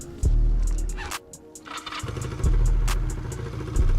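A carbureted motorcycle engine starts up close by, cranking briefly, catching with a sputter, stumbling and dropping out, then firing again into a loud, uneven idle.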